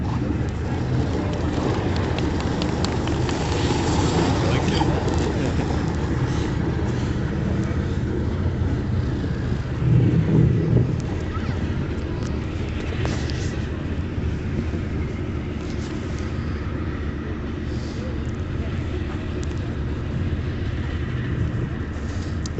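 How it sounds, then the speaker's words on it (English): An Argo Avenger all-terrain vehicle driving in winter conditions, its engine droning steadily and loudly throughout with a continuous rumble and no breaks. "that is the Argo Avenger series and the first light vehicle for Tank Saturday Winter Warfare"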